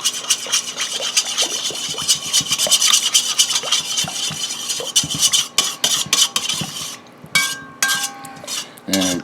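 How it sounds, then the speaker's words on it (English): Salisbury steak ingredients with ground mustard being mixed together in a bowl, a steady run of close scraping, stirring and clinking utensil sounds with no talking. "we're going to give all this a mix together"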